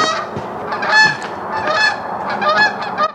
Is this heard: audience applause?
no